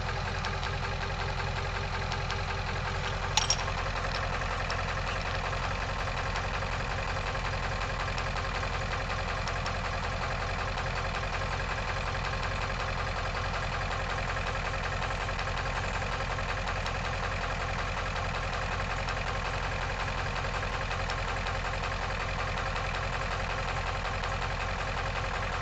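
A 7.3 diesel truck engine running on used cooking oil idles steadily and close up, a dense continuous rumble with a faint knock throughout and no talking, apart from one brief click early on.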